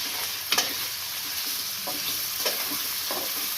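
Chicken frying in a preheated wok, a constant bright sizzle overlaid with periodic sharp stirring scrapes, one strong knock early on, close and fairly loud with nobody speaking.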